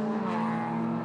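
Honda race cars dueling closely on the Wakefield Park circuit, a steady loud engine drone with strong harmonic tone holding for about a second, no voices.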